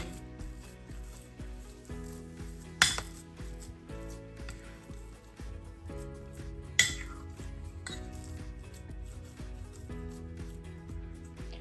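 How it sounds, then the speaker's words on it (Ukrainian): Soft, irregular kitchen clatter and squishy scraping as a masher and spoon work cottage cheese pancake dough in a bowl, with two sharper knocks standing out against quiet background. "І знову починаю розминати толкучкою, а потім уже ложкою."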